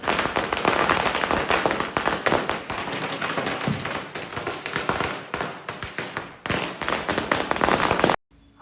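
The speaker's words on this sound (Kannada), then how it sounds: "ಸರ ಪಟಾಕಿ ಹೊಡೆಯೋದು ಮೇಲಿಂದ ಚೆನ್ನಾಗಿ ಕಾಣಿಸುತ್ತೆ" A long string of firecrackers bursts during a festival in rapid, crackling succession, loud and continuous for several seconds before stopping abruptly.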